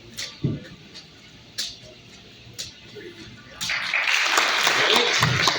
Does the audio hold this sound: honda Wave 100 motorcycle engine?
no